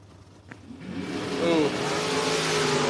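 A drag racing dragster and a Nova idle quietly, then engines surge into a loud rising roar as they launch down the strip, the acceleration swelling and holding near the end.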